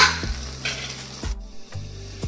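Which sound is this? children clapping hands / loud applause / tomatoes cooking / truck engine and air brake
tomatoes cooking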